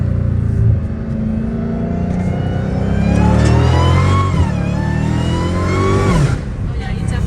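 A Dodge Challenger Hellcat Redeye engine revs loudly through an open valved cat-back muffler exhaust, rising and falling in throaty bursts, close by, with a voice briefly heard beneath.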